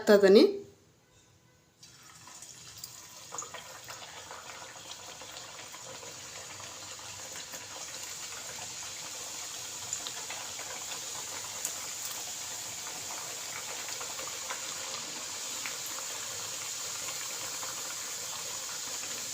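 Nippattu dough frying in hot oil: a brief loud splash, a moment of near quiet, then a steady, gradually building sizzle that carries on evenly at close range.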